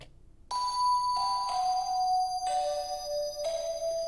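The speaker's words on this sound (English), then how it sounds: "A bell." Synthesized bell tones ring out in a short melodic sequence, each bright chime struck and sustained, stepping down in pitch, clear and alone.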